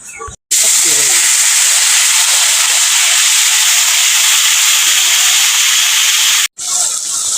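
A spice paste of mustard, poppy seed, onion, ginger and green chilli lands in a hot pan for a pabda fish dish, bursting into a loud, sustained hissing sizzle for about six seconds with brief quiet moments at either end.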